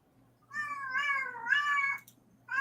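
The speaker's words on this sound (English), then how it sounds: "The loudest cat." A cat lets out a loud, drawn-out meow close by, then a second long cry, and a third begins as the sound cuts off, all over quiet background hiss.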